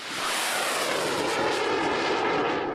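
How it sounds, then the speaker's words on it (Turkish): A warplane roars past low overhead, a loud broad rushing jet noise that swells in quickly and holds steady without any voices. "Bir savaş uçağı alçaktan uçarak gizlenerek geliyor."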